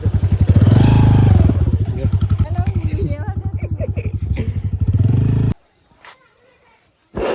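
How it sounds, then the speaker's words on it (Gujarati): A loud Royal Enfield Bullet motorcycle engine, its silencer fallen off, thumps unmuffled in a fast, heavy rhythm, then cuts off abruptly, leaving near silence with a brief knock. "એટલે ખરેખર આ બુલેટનો અવાજ આવે"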